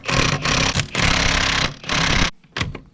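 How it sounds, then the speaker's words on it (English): An impact wrench fitted with a 17mm socket rattles off the rear wheel lug nuts of a Saab 9-3 XWD in several loud, close bursts separated by short pauses, ending with a final brief zip. "take your 17mm socket and put it on your impact so that you can get these lug nuts off the wheel"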